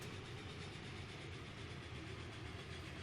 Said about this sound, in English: Is the Norfolk and Western train there? Yes, he is.